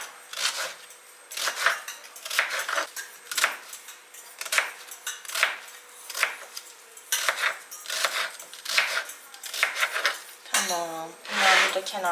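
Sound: chopping potatoes and onion for leek dish

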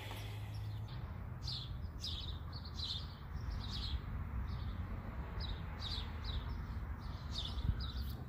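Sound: birds chirping outdoors

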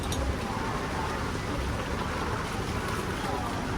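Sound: heavy rain falling

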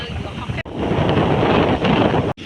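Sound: wind blowing at the seaside

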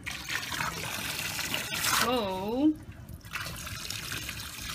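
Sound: water running to fill a backyard paddling pool

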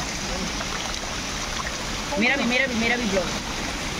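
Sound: small waterfall stream flowing

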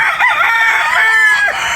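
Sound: chicken

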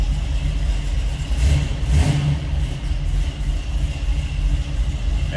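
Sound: 1968 Chevrolet Camaro 327 V8 engine revving in neutral

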